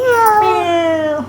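A young child imitates a cat's meow with one long, wavering, high-pitched vocal cry that slides slightly downward, close and fairly loud, with no other talk.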